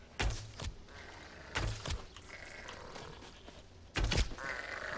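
Sheep bleat in The Elder Scrolls Online: three short, loud grunting bleats spaced a couple of seconds apart, close by, over a quiet ambient game background.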